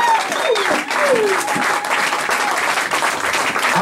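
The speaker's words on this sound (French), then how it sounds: "Est-ce qu'on peut vraiment acclamer pour la gloire de Dieu?" A church congregation claps and cheers loudly together, with scattered whoops and shouted voices rising above continuous applause for several seconds.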